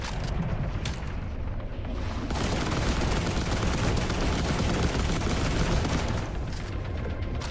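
Sustained loud automatic gunfire in The Last Caretaker, aimed at a shark, a dense continuous roar of shots lasting several seconds before easing off.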